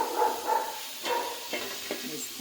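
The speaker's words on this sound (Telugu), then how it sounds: "ఆనియన్ వేసుకున్న తర్వాత బాగా ఫ్రై చేసి" Onions frying in a pan for fish curry masala, a short close sizzle with soft stirring scrapes and a couple of light spoon taps.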